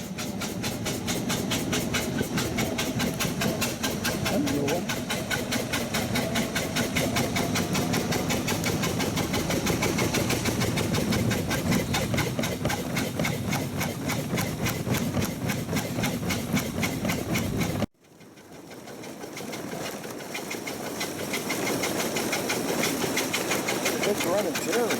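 The engine of a 1902 Curved Dash Oldsmobile runs roughly in low gear with a loud, steady, rapid chugging that dips briefly near the end before picking back up.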